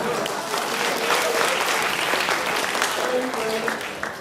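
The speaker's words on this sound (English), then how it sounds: "Give him a big round of applause." An audience at a university guest seminar claps vigorously for the speaker before a question-and-answer session. The steady, full applause lasts several seconds, with some voices murmuring underneath.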